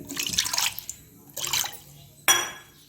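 Water poured in short splashing bursts into ragi bonda batter made with finger millet flour, salt and buttermilk, three separate pours with quiet gaps between, close and clear.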